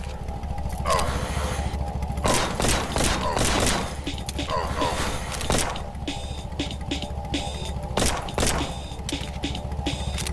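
Pea shooter gun firing in One Million Fatal Guns, a rapid rattling string of shots over a droning engine-like hum, with sharper louder cracks punctuating the stream and a voice talking at points.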